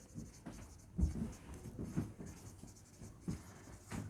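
A pen scratches notes during a lecture, soft and close, with faint irregular strokes and small taps spread across the moment and no speech over it.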